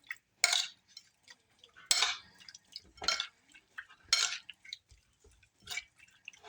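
Shrimp tossed with lemon juice and paprika in a bowl, with about five wet, clinking bursts of stirring against the bowl spaced unevenly between quiet pauses, close and fairly crisp.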